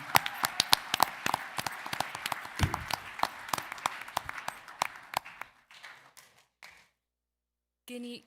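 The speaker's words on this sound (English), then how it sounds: "How about a round of applause for Selena?" Scattered applause at a Board of Education meeting for Selena, a few hands clapping sharply at close range, thinning out over several seconds before it stops.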